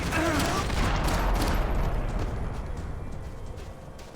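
Gunfire in the video game Max Payne 3 rings out as a dense, loud fusillade of overlapping shots that rattles on and slowly thins toward the end, with no talk over it.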